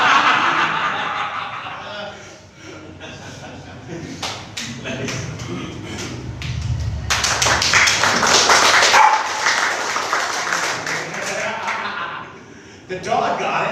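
A dog barks in short bursts amid an audience's chuckles and laughter at a live comedy show, with scattered taps and crowd noise throughout.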